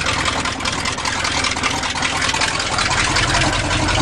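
The big-block engine of a 1977 GMC 400 truck runs steadily, a loud, close, deep rumbling idle with a constant throb and no change in speed, alone without any talking.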